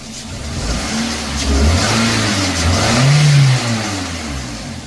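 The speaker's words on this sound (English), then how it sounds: "I'm going to give it a couple snap throttles" A running engine is blipped with a couple of quick snap throttles, rising and falling in loud, close surges over a steady idle, with no voices.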